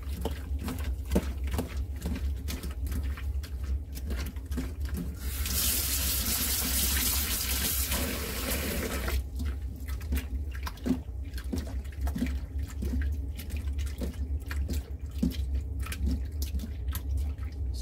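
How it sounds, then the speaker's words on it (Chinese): Fish rinsed under a running kitchen tap: steady water flow splashes throughout, swelling into a louder full gush for a few seconds midway, with irregular drips and handling clatter around it. "我就攞翻少少鱼 去洗一洗佢先。"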